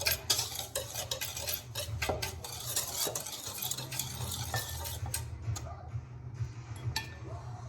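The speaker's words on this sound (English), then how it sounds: "I just take a whisk and just kind of stir all that together" Whisk stirring milk, sugar and cornstarch in a pot, with quick rhythmic clinks and scrapes of metal against the pan, fairly close and continuous, slowing near the end.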